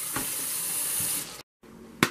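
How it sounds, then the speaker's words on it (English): Tap water running into a sink while raw chicken is washed, a steady close splash that briefly cuts off and resumes with a sharp knock near the end. "Just simple water, man. This is what she meant by washing chicken."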